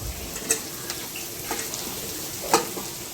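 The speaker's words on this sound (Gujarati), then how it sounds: "ફૂલ ગેસ ઉપર સોતે થાય છે" Tomatoes and ginger sautéing on full flame for hakka noodles, a continuous sizzle broken by a few sharp clicks of a utensil against the pan, with no talking.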